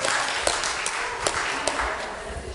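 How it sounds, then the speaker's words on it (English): A church congregation applauds after singing happy birthday at a New Year's Day service, a dense wash of many hands clapping steadily at moderate volume with a few sharper claps standing out. "I'll give them a round of applause"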